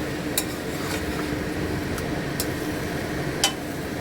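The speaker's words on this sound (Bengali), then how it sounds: "ভালো করে মিক্স করব, আস্তে আস্তে কষে।" Shrimp and taro greens stirred in a pan over a slow flame, with soft scraping under a steady low sizzle and a few sharp clicks of a utensil against the pan.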